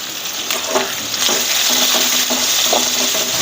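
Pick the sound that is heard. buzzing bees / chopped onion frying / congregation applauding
chopped onion frying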